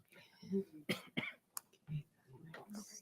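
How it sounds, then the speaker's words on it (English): A few short, quiet coughs and throat-clearing sounds come in quick succession, mixed with soft murmured speech nearby. "I have this lingering cough"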